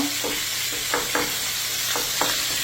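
Sausage meat taken out of its casing and broken up in a pot with tomato sauce, a constant sizzle with several light scraping strokes of a utensil against the pot.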